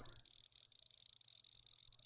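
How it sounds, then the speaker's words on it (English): A cicada buzzes in a steady, high, continuous drone with slight pulsing, heard alone and fairly faint. "Now that's a freaking cicada."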